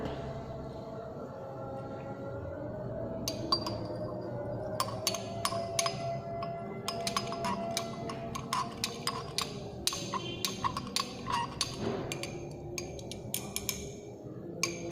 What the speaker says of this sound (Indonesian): Kita aduk menggunakan batang pengaduk.